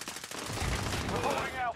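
Automatic gunfire rattles through a tactical military shooter firefight, a loud dense burst of shots with voice chatter faintly mixed underneath.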